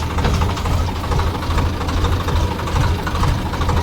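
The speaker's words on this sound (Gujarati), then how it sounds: "આપણે ટ્રેક્ટર લઈને નીકળી ગયા છીએ" A heavy diesel tractor engine chugs steadily at close range, a low rhythmic knocking rumble with no voices.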